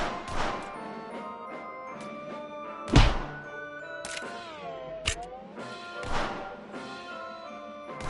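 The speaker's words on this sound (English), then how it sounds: "That's a strong high five you got there." A single hard high-five slap between a father and his young son lands as one loud, sharp smack over steady background music.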